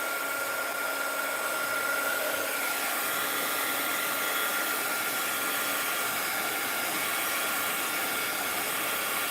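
A heat gun blows a steady, airy hiss while melting crayon, continuous and fairly quiet from start to finish with no talking.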